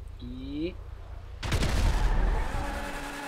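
A grenade goes off in GTA V with a sudden heavy boom and rumbling aftermath. A brief tonal game sound precedes it, and the roar dominates and slowly fades over the next two seconds.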